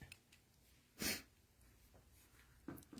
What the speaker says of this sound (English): And the sniffles have started.